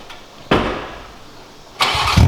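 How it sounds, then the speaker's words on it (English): A straight-piped 2020 Toyota Supra Mark V fires up: a sharp, loud starter bark at the half-second, a lower rumble, then a second loud burst of revving near the end, with no talking. "The first time ever anyone has straight piped a Mark V Supra."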